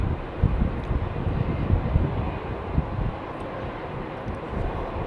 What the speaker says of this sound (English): She's using a lot of runway for a 767.